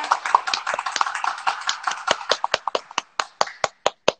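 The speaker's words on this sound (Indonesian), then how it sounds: "Karena ada yang tepuk tangan di sini, manual orangnya, yaitu suami gue dan 2 anak-anak dan anjing" A few people at home clap their hands, the host's husband and two kids among them. The applause is fast and dense at first, then thins into slower, separate claps that trail off.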